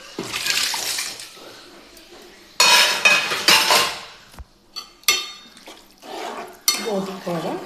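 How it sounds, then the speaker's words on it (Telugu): Tripe is added to a cooking pot and stirred in with a spoon, making bursts of loud metallic scraping, clattering and wet sloshing that come and go between brief pauses. "ఇప్పుడైతే నేను బోటి కూడా యాడ్ చేస్తున్నాను"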